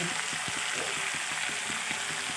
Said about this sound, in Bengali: আর এখন এটাকে কষাচ্ছি ভালো করে কষিয়ে তারপরে জলটা দেবো